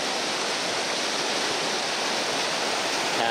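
Toboggan Creek on the Berg Lake trail near Mount Robson rushes past in a loud, unbroken hiss of fast-flowing mountain water, close and steady.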